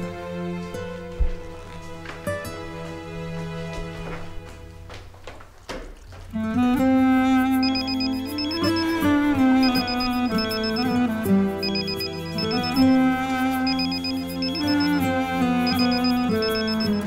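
A mobile phone ringtone plays as a looping electronic melody, starting after a quieter stretch of background music and then ringing steadily and loudly for about ten seconds in a home setting.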